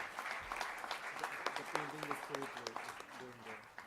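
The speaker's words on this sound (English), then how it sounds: "A big clap for him, Bhaju ji." An audience at a live literature festival event claps for a prize winner, a soft, fairly distant spread of applause with a voice speaking over it.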